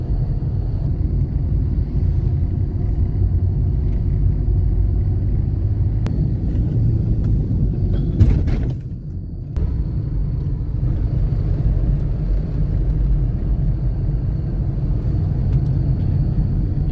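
A car rolls along a Konkan country road from Dhamapur toward Kudal and over a bridge across the Karli river, a steady close road rumble with wind noise that dips briefly mid-drive before resuming.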